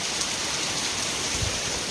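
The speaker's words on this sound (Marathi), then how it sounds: "तर आता आहे ना जोरात पाऊस आला आहे बघा" Heavy rain pours steadily near a temple, a dense, even hiss of drops hitting surfaces that fills the short stretch without any break.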